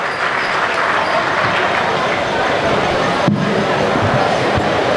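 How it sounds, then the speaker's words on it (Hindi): The audience at a Hindi kavi sammelan poetry recital claps together in a dense, continuous wash of applause that lasts the whole stretch. "एक बार तालियां बजाइए"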